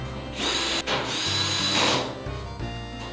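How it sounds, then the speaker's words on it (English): A power screwdriver tightens screws on the blower box of a Whirlpool dryer, whirring up close in two sustained bursts with a brief pause and a slowing tail, and no voices. "go ahead and tighten the other screws so that everything will stay where it belongs"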